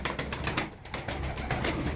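A crested pigeon is set free and its wings clap and beat in a quick, regular rhythm, close at hand against faint outdoor background noise and with no voices.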